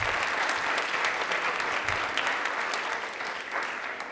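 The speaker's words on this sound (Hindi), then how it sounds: "अरे ताली एक बार जोरदार बजा दीजिए" Steady, even audience applause in a Rajasthani TV quiz studio, many hands clapping together for several seconds at moderate volume with no talking.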